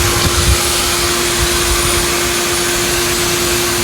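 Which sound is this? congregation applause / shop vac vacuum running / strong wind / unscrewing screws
shop vac vacuum running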